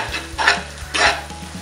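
Tomato masala with turmeric sautés in a pan, a spatula scraping and stirring in two brisk strokes over a low steady sizzle, close up with no talking.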